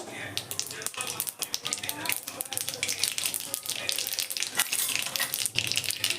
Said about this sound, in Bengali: কড়াইয়ে তেল দিয়ে দিয়েছি দিয়ে দেবো সর্ষে ফোড়ন তেলটা একটু গরম আছে